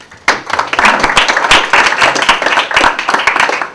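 Audience applause for a conference panel and speakers, loud close clapping that starts abruptly and continues as a dense, uneven patter of hands.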